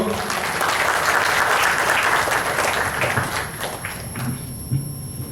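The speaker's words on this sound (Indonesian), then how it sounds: "Beri tepuk tangan yang luar biasa sekali lagi buat Bapak Menko" A crowd at a formal event gives a burst of clapping, dense and loud at first, then thinning into scattered claps over a faint background murmur.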